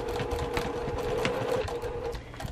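A sewing machine back stitching to secure the end of a quilt binding runs as a steady, continuous mechanical whir with a sustained hum, close and fairly loud throughout, with no talking.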